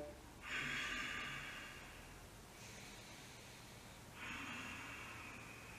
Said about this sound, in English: 5 Ujjayi breaths again.